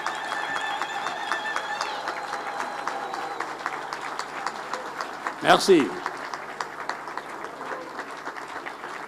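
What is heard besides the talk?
applause for the President of Djibouti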